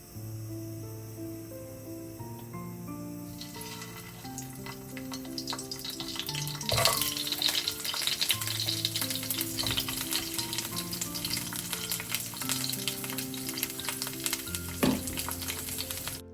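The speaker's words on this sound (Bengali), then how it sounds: "তেলটা গরম হয়ে যাওয়ার পরেই ফুলকপি আর গাজরগুলো ভাজার জন্য দিয়ে দিয়েছি" Cauliflower and carrots fry in hot oil in a wok, a continuous close sizzle with occasional stirring scrapes, growing louder and busier after the first few seconds, with soft music playing underneath.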